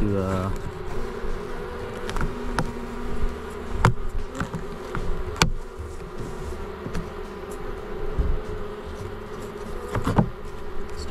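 A honeybee colony from a swarm, opened for hive inspection, buzzing in a dense, continuous drone close by, with a few sharp knocks and clicks from the hive.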